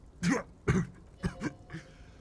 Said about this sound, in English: The little guy starts coughing